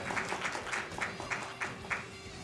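An audience claps together at a Mario Kart 8 Deluxe speedrun event: a moderately loud, fairly even run of claps over a low background hum.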